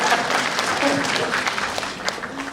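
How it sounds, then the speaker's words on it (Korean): A Korean talk show audience applauds in a dense, steady patter of many hands that fades slightly over a couple of seconds. "박수 한번 쳐주세요."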